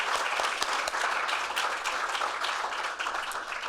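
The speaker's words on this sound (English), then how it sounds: "let's give one more round of applause to all our winners today" A seated audience at a foreign press awards ceremony applauds its winners, a dense, even clapping that fills the room and holds steady without a break.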